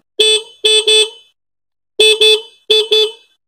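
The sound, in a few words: scooter horn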